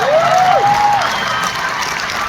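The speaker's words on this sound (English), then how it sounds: "Yes, you can applaud that." Concert audience at a theater applauding, a dense burst of clapping and cheering that fades slightly over a couple of seconds, with a brief whistle-like tone at the start.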